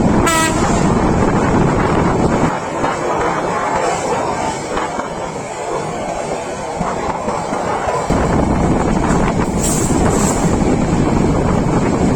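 The Sonar Bangla Express intercity train running from Dhaka to Chittagong makes a loud, continuous rumble with heavy wind buffeting and clattering wheels, and a brief horn sounds at the very start.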